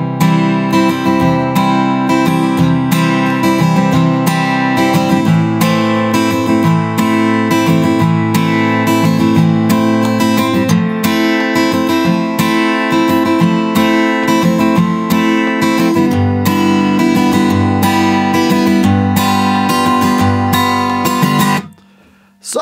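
Acoustic guitar strumming the verse chords of a song, starting on C, a steady loud rhythmic strum continuing for about twenty seconds before stopping abruptly.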